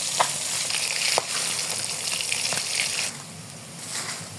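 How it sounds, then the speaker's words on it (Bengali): Bata fish frying in hot oil, a steady close hiss and sizzle with small pops and crackles throughout, fading slightly toward the end. "মাছগুলো ভেজে নিচ্ছি।"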